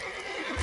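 Roach, the horse in The Witcher 3 video game, gives a single short, close neigh with a faint clop of hooves underneath.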